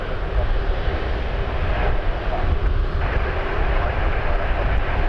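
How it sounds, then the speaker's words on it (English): A Boeing Dreamliner at Toronto Pearson airport gives a loud, steady low engine rumble at night, continuous and fairly close throughout. "Dreamliner in the way is always a good interruption to the action"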